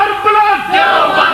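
A crowd at a religious conference shouts slogans in unison, loud rising chanted calls in a couple of bursts, with a voice-like leading cry.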